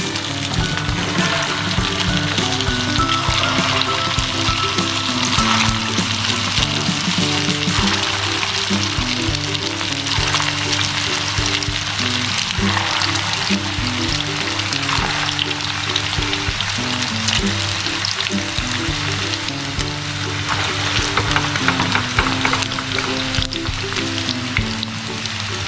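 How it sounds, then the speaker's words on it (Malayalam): Chicken meatballs fry in hot oil in a pot on the stove, giving a loud, unbroken sizzle that holds steady from start to finish with no talk. "നമുക്കിത് ഒരു പാത്രം അടുപ്പിൽ വെച്ച് എണ്ണ ചൂടാകുമ്പോൾ ഇത് ഓരോന്നായിട്ട് അല്ലെങ്കിൽ 2-3 ട്രിപ്പ് നമുക്കിത് വറുത്ത് കോരാം"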